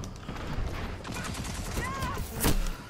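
Gunfire coming from behind in Destiny 2, a flurry of rapid shots and metallic clatter with a sharper burst near the end, under faint speech.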